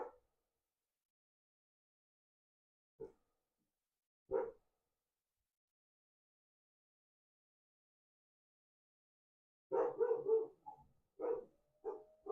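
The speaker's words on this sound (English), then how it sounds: "all of them were like whining or howling or barking" Dogs at home bark and whine in scattered bursts: two short faint yelps early, then after a long silence a cluster of louder barks and whimpers near the end, with no talking.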